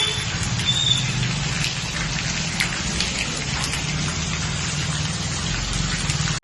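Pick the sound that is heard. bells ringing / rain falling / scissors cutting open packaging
rain falling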